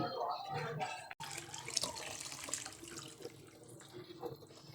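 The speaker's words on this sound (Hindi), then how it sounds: "अभी पानी ये फुल भर देंगे देगची" Water running and splashing into a cooking pot (degchi) while making shola, a steady gushing pour with a brief break, then continuing under a voice in a home kitchen.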